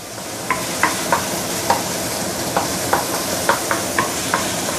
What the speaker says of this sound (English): I'm going to slowly using medium-high heat to saute this for at least a couple of minutes before we continue